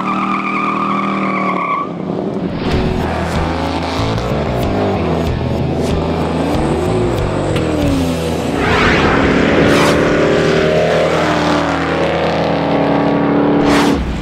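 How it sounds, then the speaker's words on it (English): A 1969 Chevrolet Camaro Z/28 with its 302 V8 and four-speed roars loudly, revving and accelerating with shifting engine pitch and brief tire squeal, the sound staying strong and close throughout. "This is a real-deal Z28, complete with the 302 V8 engine under the hood and 4-speed."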